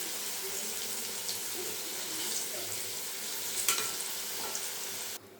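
Potato pieces frying in hot oil give a steady, dense sizzle that holds evenly throughout, with faint scraping stirs on top, then cut off abruptly near the end.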